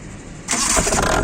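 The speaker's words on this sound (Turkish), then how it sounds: "bir marş yapsana biz Hemen çekelim" A Suzuki Carry mini van engine cranks and catches abruptly, then roars loudly up close as it revs right after starting.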